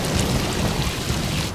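Heavy rain pours down in a steady, dense roar that fills the whole clip without a break, with no voices over it.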